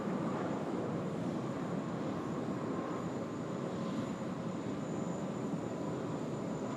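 An airliner on its takeoff roll from runway 16 right at Sydney Airport, a steady, fairly distant jet engine roar holding even throughout with no voices.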